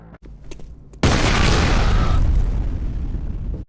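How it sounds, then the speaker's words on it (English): A grenade blows up in the first-person shooter F.E.A.R., opening with a sudden loud, close blast that rolls into a long rumbling, crackling tail and fades away over a few seconds, with faint game sounds before it. "Despite being intended to be exploded in midair during slo-mo, grenades are still useful in some edge use cases, like here."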